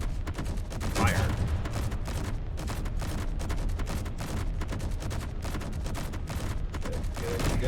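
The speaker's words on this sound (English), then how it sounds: "Begin by shooting small cannons." Small cannons firing in the space game Space Engineers, a rapid, dense barrage of sharp shots pounding continuously throughout, with a voice speaking briefly over the gunfire.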